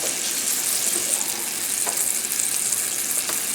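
Floured salmon sautés in a pan, giving off a steady, bright, close frying sizzle with a few faint stirring ticks and no voices.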